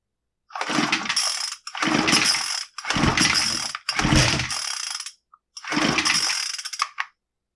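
Five loud, close rope pulls on a Troybilt TB25SB string trimmer that won't fire, each a harsh whirring crank of about a second with brief pauses between, and no engine catch.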